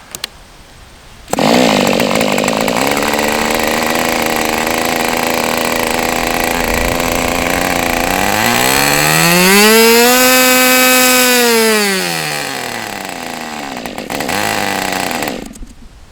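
A small Evolution 46 glow model engine running on Motul Micro 2T oil starts abruptly and holds a loud, buzzing whine, then revs up in one smooth sweep and settles back toward a lower idle before cutting out.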